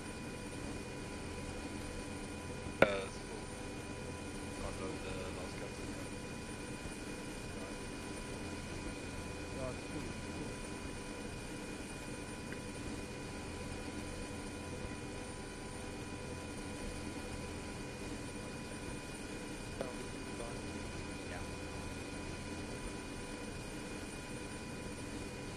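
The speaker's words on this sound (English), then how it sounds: "Dragon 2 will be boarding the chopper again for the second flight." A helicopter's engine and rotor hum in a steady, low, fairly distant drone that runs unbroken throughout, with a single sharp click early on.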